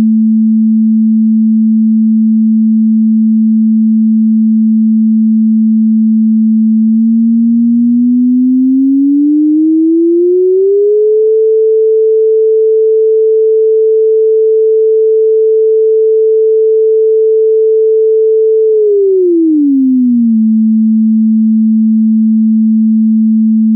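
A pure sine test tone holds steady at a low pitch, glides smoothly upward to a higher steady pitch, then slides back down to the original level, sounding clean and continuous with no other sounds.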